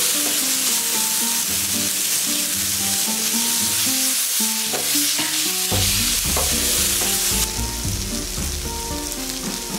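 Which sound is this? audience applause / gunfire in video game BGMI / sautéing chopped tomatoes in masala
sautéing chopped tomatoes in masala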